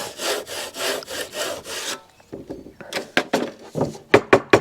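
A saw cuts through wood in about five quick rhythmic strokes, then stops, followed by a few sharp knocks and taps on the wood.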